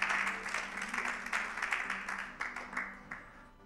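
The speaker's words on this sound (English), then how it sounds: "let's applaud Jesus for that" A congregation applauds during an evening church service, a modest crowd clapping close by in uneven bursts that gradually taper and thin toward the end.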